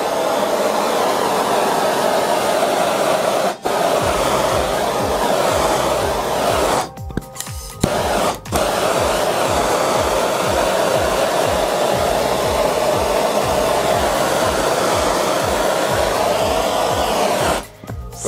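Heat gun blowing on stretched vinyl wrap film, a steady, loud, close airy roar that holds almost continuously, broken by a few brief dropouts as it is switched or moved.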